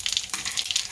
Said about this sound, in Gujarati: પહેલા આપણે તેલ આમાં રાઈ નાખીશું. આપણે જીરું નાખીશું.